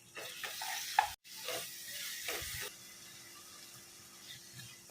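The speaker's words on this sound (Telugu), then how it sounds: "ఈ మసాలాస్ మొత్తం మంచిగా ఫ్రై అయ్యేంత వరకు ఒక 5 minutes ఫ్రై చేసేసుకున్నాము" Masala spices with coriander powder fry on high flame for an aloo mutton korma, giving a soft close sizzle broken by a few scraping stirs, with no talking.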